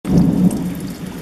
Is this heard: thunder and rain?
yes